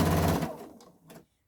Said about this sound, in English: I'm going to start sewing, and you can see how I'll be pulling it together